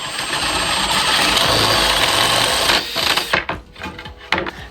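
Drill boring a hole in wood with a larger bit, a loud steady motor grind for about three seconds that then spins down into scattered rattles and knocks.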